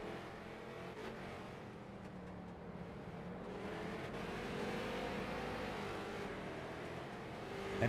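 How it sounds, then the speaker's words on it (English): Race cars lap a figure-eight track during practice for a 180-minute race, a steady, distant engine roar that swells and fades as the cars pass, with no talk. "And you can hear the race cars going around."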